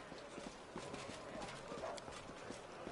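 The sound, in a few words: horse hooves in video game Pathfinder Wrath of the Righteous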